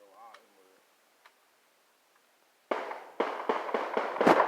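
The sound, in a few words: real gunshots outdoors, not fireworks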